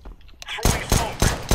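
Rapid bursts of video game gunfire, four sharp volleys at a steady rhythm, loud and close.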